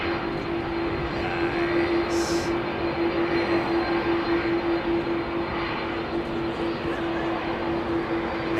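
An old Boeing 747-200 jet with CF6 engines roars at Heathrow airport, a loud, steady engine drone with a sustained whine that holds evenly for the full stretch.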